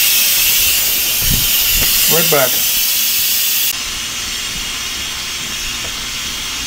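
Instant Pot pressure cooker venting steam after cooking corned beef brisket, a loud steady hiss that runs throughout, dropping slightly in level partway through, with a brief spoken phrase over it.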